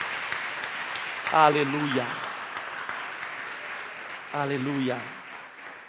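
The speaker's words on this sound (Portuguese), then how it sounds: "Se você crê, dê um forte aplauso a Jesus." A church congregation applauds in a continuous, washy patter while a voice calls out twice above the clapping.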